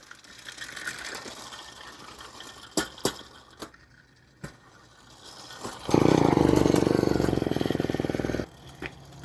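Old moped engine briefly catching during a start attempt with a spark plug grounded on metal and carb cleaner in the intake, giving a loud rattling buzz for about two and a half seconds after scattered clicks and clanks.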